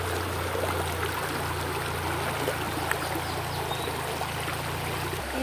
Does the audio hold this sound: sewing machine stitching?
no